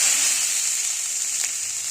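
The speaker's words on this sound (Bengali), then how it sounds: "গ্রেট করা গাজরটা আমি এখন ভেজে নেব একটু ঘিয়ের সাথে" Grated carrot frying in ghee in a hot kadai for carrot halwa gives a steady, close, even sizzle with one brief crackle partway through and no talking.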